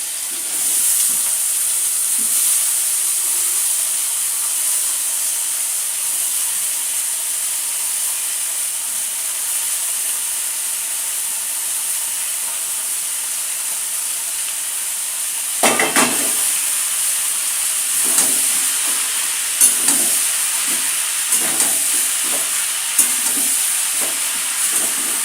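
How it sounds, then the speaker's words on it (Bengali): Ash gourd pieces fry in a pan for a prawn and ash gourd dish: a steady oily sizzle and hiss, later broken by a series of scraping stirs and clatters from the spatula. No talking. "হয়ে গেছে, এবার চাল কুমড়োটা দিয়ে দিচ্ছি।"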